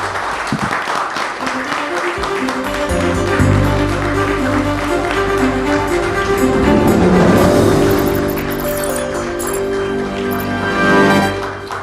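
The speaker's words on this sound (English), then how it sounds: "can we have a warm round of applause, please?" A crowd of audience members claps warmly in sustained applause, loud and dense throughout, swelling slightly in the middle and continuing without any talk.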